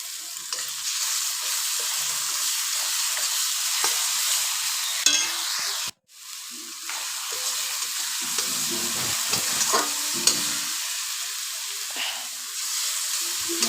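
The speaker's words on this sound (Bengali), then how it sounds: "মশলাটা প্রায় ভাজা ভাজা হয়ে এসছে।" Spice masala for chicken kosha frying loudly in a pan, a dense close hiss of sizzling oil that drops out for a moment, then resumes with scraping stir strokes and occasional pops; no one talks.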